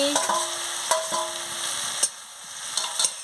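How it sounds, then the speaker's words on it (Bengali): Spiced masala with fresh coriander leaves is sautéed and stirred in a pan, producing a continuous sizzle with intermittent sharp scrapes and clicks of the spoon, close by with no voices. "ধনে পাতা দিয়ে মশলাটাকে ভালো করে কষাচ্ছি"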